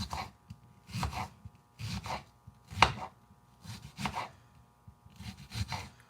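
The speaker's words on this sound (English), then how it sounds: "the rest I will cut up into little slithers like this" A knife slices an onion into thin slivers on a cutting board, with about eight evenly spaced chopping strokes, each a short crunchy thud, close and fairly quiet, with no voices.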